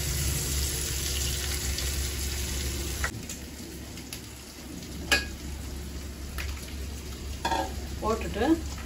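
Food coated in turmeric, chili powder and salt sizzles steadily in hot oil, close and even, with a low background hum and a few sharper stirring clacks and crackles.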